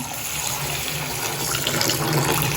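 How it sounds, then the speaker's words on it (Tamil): Water pours steadily into a vessel to wash soaked moong dal, a continuous splashing gush close by, with no one speaking. "தண்ணி ஊற்றி நல்லா வாஷ் பண்ணிக்கோங்க"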